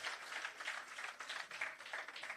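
An audience at a handing-over ceremony for a shelter recovery programme claps steadily, a faint, somewhat distant wash of overlapping applause with a gentle rhythmic pulse and no talk.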